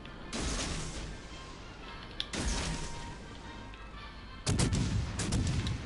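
Three heavy 6-inch naval gun salvos in World of Warships, each a loud booming blast with a long rumbling tail, spaced about two seconds apart, the last the strongest.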